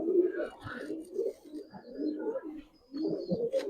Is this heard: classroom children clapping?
no